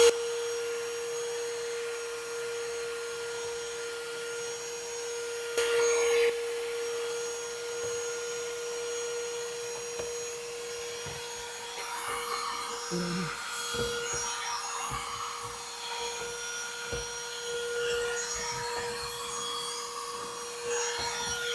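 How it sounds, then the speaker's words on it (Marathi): A STIHL SEA 20 portable vacuum cleaner hums steadily with a constant whine while it cleans a car's floor, dashboard and center console, overlaid by intermittent rubbing and scraping of the nozzle against surfaces, fairly faint and close. "आता जो व्हॅक्यूम क्लीनर आहे ऑन करायचा"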